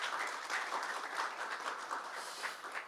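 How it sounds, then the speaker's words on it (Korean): An audience at the opening ceremony of a Korean policy studies academic conference applauds, steady moderately distant clapping that rises and falls slightly over a few seconds, with no speech on top. "여러분 큰 박수하기 시작하면 좋겠습니다."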